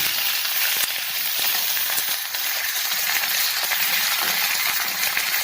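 Garlic and onion paste sizzles loudly in hot oil, a close, steady frying hiss broken by a few sharp taps from the stirring.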